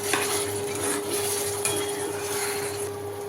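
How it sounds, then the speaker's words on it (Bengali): Amla pickle being stirred with mustard paste in a pan gives a steady run of close scraping and clinking utensil sounds, with a faint sizzle underneath and no voices. "আর সর্ষের এই পেস্টটা দেবো, দিয়ে ভালো করে নাড়ব"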